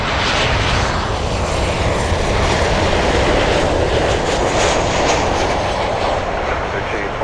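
A jet airliner lands on runway 9 at Miami International Airport under stormy skies, its engine roar loud and continuous, swelling broadly across the whole span as it passes close by.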